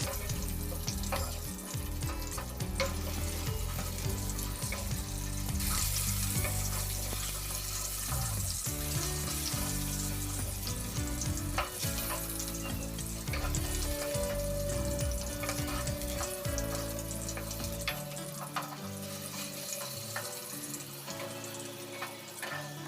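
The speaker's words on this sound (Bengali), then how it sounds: "আলুটা আমি একটু লাল করে ভেজে নেব।" Potato pieces frying in a pan while being browned for shukto, a continuous sizzle with occasional stirring and watery splashes over a steady tonal background.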